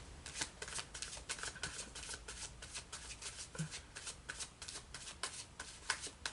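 Tarot cards shuffled steadily and continuously at close range, a rapid series of papery riffles and flutters with no voices over them.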